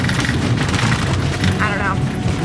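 RV driving over washboard sections of the gravel Dempster Highway, a constant loud rumbling and rattling from inside the vehicle, with no talking.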